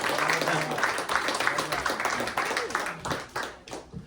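Audience clapping at a close-up and parlor magic show after a blackjack card trick, a burst of hand claps that thins out toward the end, with people talking over it.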